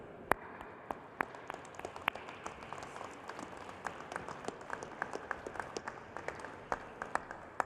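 Scattered applause from a commencement audience at an Illinois Tech graduation ceremony, a few faint, sparse claps ringing out in a large hall rather than a full ovation.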